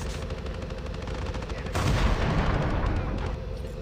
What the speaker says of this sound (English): a hay bale blocked your missile